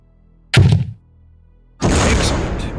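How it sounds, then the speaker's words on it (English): A grenade launcher firing in Soldier of Fortune 2: a short hollow thunk, then after a pause a loud broad blast that stays roaring and slowly fades, with no voices. "Now, destroy the target with a grenade."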